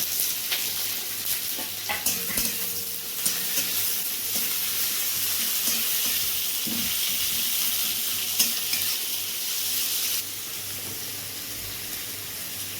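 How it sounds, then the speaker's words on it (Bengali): Onions fry in oil in a pan after the garlic has been lifted out, making a steady close sizzle with occasional spatula clicks and stirring, which eases slightly toward the end. "রসুনটাকে তুলে নেওয়া হচ্ছে এরপর পেঁয়াজটা ভাজা হচ্ছে"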